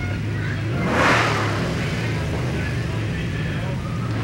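A Mopar car engine revs at a street parade, one broad swelling rev rising and easing off near the middle, surrounded by steady crowd and traffic noise.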